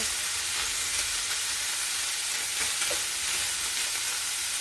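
Beef frying in a pan gives a steady, close sizzle while it is stirred, with faint scraping now and then and no voices.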